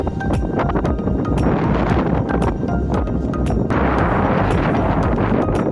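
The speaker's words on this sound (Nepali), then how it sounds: "यहाँ चाहिँ बब्बाल हावा लाग्दो रहेछ हो पारीको त हिमालको चिसो" Strong, cold wind gusts roar against the microphone with steady, loud buffeting throughout, on an open viewpoint facing the Himalayas.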